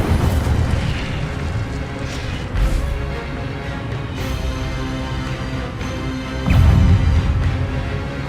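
An Incendio fire spell cast in Hogwarts Legacy gives a rumbling, whooshing roar of flame with several heavier bursts, the loudest near the end, continuous and close with no voices.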